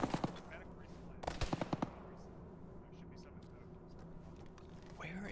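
Bursts of automatic gunfire and rapid single shots in an Arma ShackTac military game mission, sharp cracks clustered early then fading into a quieter ambient background.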